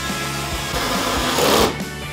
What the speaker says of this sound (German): Für die setzt ihr die Schrauben, die den Rahmen an den Regalböden fixieren.